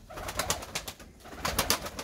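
Pigeon chicks in a loft coo softly in a few short bursts with gaps between them, no talking.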